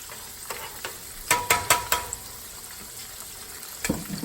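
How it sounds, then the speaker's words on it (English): Colossal shrimp for buffalo fried shrimp deep-fry in a pot of hot oil. A soft, low bubbling hiss sits under a cluster of quick clattering scrapes and knocks near the middle, and a few more at the end. "drop all your shrimp in there and cook it for about 4 minutes"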